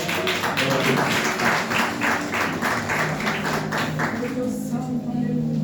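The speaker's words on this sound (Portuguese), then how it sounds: "Se você puder bater palmas para Cristo nessa noite" A church congregation claps hands for Christ during an evening service. The claps come in a steady rhythmic beat, loud and close, with music and voices running underneath.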